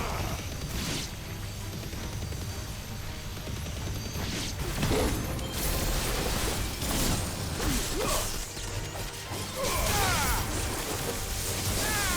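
Mega deck cannon firing in Final Fantasy XVI, a dense stretch of game combat with repeated whooshing blasts, crashes and mechanical clatter, loud and continuous for about twelve seconds.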